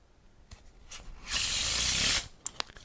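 Playing cards are riffled together in a Faro shuffle, a close, soft buzzing whir lasting about a second, framed by light taps and card handling clicks.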